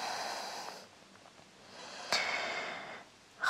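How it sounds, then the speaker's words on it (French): Slow, soft breaths while resting in yoga child's pose, an airy inhale and exhale with a brief pause between them and a sharper intake near the end, close and quiet with no talking. "On reste encore quelques respirations."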